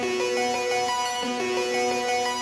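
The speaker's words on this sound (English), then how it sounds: "And then a little cold fire distortion and giving some grittiness." A gritty synth lead with cold fire distortion plays a steady harmonic line in a sports beat, its bright buzzing overtones sustained with small pitch movements and no voices.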